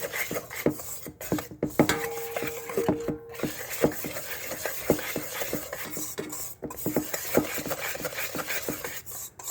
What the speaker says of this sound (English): I'm going to go ahead and whisk this